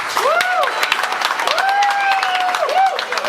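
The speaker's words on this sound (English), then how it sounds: "Ladies and gentlemen, big round of applause." Guests applauding at a wedding reception, a dense patter of clapping and some cheering from a crowd in a hall, with a rising whistle or voice tone running over it.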